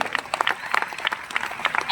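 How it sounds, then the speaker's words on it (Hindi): An auditorium audience at a celebration event applauds, a dense patter of claps filling the room at moderate loudness with some crowd noise mixed in. "तो आप लोगों के लिए एक बार दिल से जोरदार तालियां होना चाहिए"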